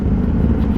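A 2021 Kawasaki ZX-10R with an Austin Racing exhaust gives a loud, steady low engine rumble in a very brief burst.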